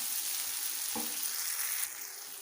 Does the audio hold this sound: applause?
no